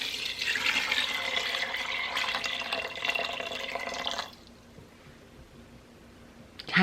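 Water poured from a tap into a pot of rinsed chickpeas, a steady close rushing splash for about four seconds, then stopping, leaving faint drips and quiet room sound.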